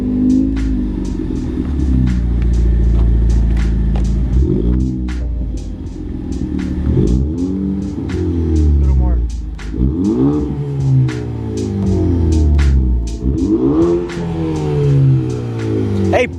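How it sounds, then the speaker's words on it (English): A car engine revs repeatedly nearby, rising and falling in deep throaty bursts from the exhaust, with occasional voices talking between revs. "Hey buddy, don't be revving your car around here"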